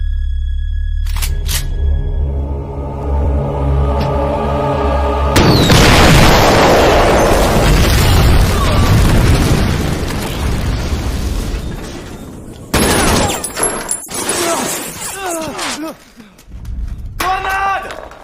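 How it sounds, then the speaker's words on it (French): Grenade blasts in an action film scene: a deep boom erupts and rolls on for several seconds, followed by more bursts and debris, with loud music and voices shouting around the explosions. "Grenade!"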